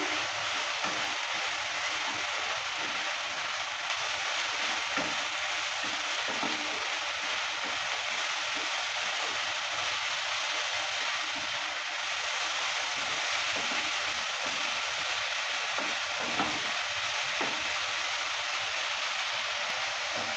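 Dheki shak with potol and spices sizzles steadily as it fries in a pan, making a broad, even hiss that runs unbroken and moderately loud throughout, with faint stirring movements beneath.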